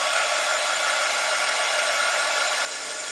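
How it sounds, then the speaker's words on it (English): A small hair dryer blows loudly and steadily at close range to dry mica powder on a craft piece, a constant airy roar that drops to a lower setting near the end. "Let's see if we can hit it with the dryer just for a few minutes."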